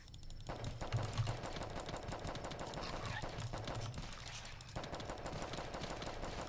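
Rapid gunfire from a Glock pistol in The Last Stand video game, repeated sharp shots in quick bursts at moderate loudness with short pauses between them.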